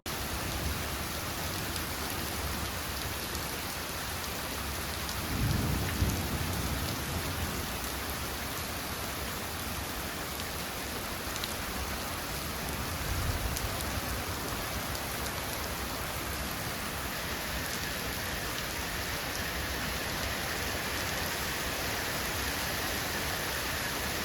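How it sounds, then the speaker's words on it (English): Heavy rain pours down steadily on a street, a dense even hiss throughout, with a couple of faint low rumbles that may be distant thunder. "It was coming down, thunder, lightning."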